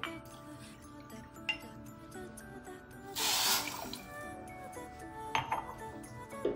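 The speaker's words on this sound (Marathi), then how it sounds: "पाकासाठी इथं मी 1 वाटी साखर घेणार आहे आणि 2 वाट्या त्यामध्ये पाणी घालायचंय।" Water is poured over sugar in a cooking pan to make syrup for imarti, a splashing rush of about half a second amid light clinks of utensils and dishes.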